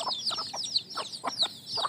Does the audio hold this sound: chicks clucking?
yes